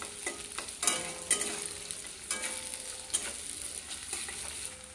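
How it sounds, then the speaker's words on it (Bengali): Chopped onion fries in a pan with oil, a quiet continuous sizzle broken by several scraping stirs of a spatula. Nobody speaks. "এবার পেঁয়াজ কুচিটা একটু ভেজে নিতে হবে"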